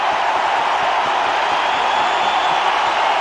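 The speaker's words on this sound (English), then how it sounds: "the crowd has come to life" A packed cricket stadium crowd roars as a wicket falls, with Zaheer Khan dismissing Michael Hussey, producing a loud, unbroken wash of cheering that holds at full strength throughout.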